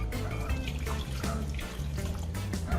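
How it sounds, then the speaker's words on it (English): Water pours steadily from a tap onto bread pieces being softened for Jamaican meat patties, a near, continuous splashing stream without voices. "And now we're going to add a couple cups of water to soften them."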